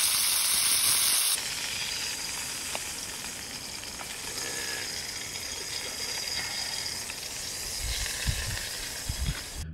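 Steak sears in a pan with a continuous close, crackling sizzle and hiss, a brief sharper hiss at the start and a few small pops near the end, with no talk.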